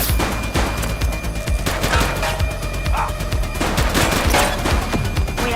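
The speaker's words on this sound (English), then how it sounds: "Light them up! She's shooting!" Heavy gunfire in a police shootout in the video game The Precinct, with dense overlapping shots and rapid bursts from several weapons, loud and continuous for the whole stretch.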